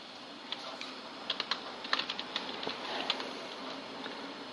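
Fingers typing code on a computer keyboard, irregular close clicks and taps in quick runs over a faint steady background hum.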